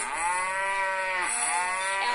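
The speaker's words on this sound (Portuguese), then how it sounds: "Vovô João tinha um sítio divertido, onde havia um montão de vacas" Cows moo on a farm in a long, loud, drawn-out call that rises and falls, heard alone with no talking.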